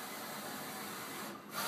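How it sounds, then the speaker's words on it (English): A large-format printer steadily prints a long mural image 120 inches long and 25 inches high, a continuous broadband mechanical whir with a brief dip near the end. "Here's another very interesting image coming off the printer now."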